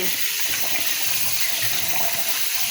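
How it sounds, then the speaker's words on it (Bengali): Rice is rinsed in running water for cooking, a steady, close, unbroken rush of splashing water with no voices. "চালটা হচ্ছে আমি ভালোভাবে ধুয়ে"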